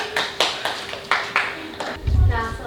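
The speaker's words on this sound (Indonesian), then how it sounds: "Tepuk tangan dulu untuk IPM." Audience clapping at a school talk show with extracurricular club candidates, a handful of separate claps in an uneven rhythm, moderately close, with a low rumble and some voice noise near the end.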